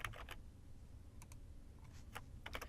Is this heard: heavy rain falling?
no